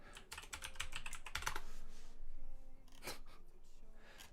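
Rapid typing on a computer keyboard during a card deckbuilding game, with dense bursts of keystrokes, a pause, then a few more clicks, fairly quiet and close.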